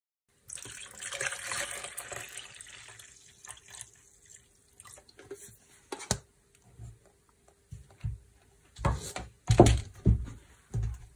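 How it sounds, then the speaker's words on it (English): Water poured through a strainer trickles and splashes steadily at first, then fades into scattered drips and soft clunks near the end. "I'm going to strain this water."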